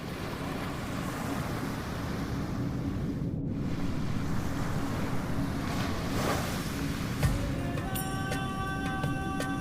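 Ocean surf rolls in a steady roar mixed with gusting wind, then a few faint tonal clanks and chimes rise over the wash near the end.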